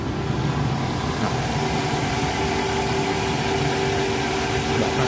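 A 2011 Toyota Alphard with the AZ-FE engine idles smoothly and steadily, a close, even mechanical hum with a faint whine and no voices.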